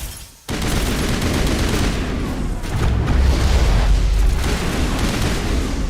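Sustained, dense weapon fire from a Mass Effect battle rolls on without pause, a loud continuous barrage of rapid shots with deep booming impacts that swell slightly midway.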